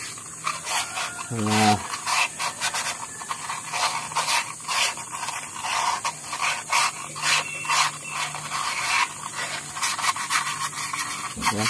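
Rhythmic scratchy rubbing of sandpaper against a metal brake drum, repeated strokes up close, with someone talking over it.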